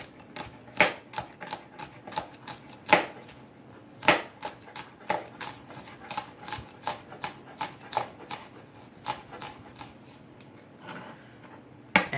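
Onions sliced with a knife on a cutting board for keto burgers, a string of crisp, sharp chops in an uneven steady rhythm, close and clear against a quiet room.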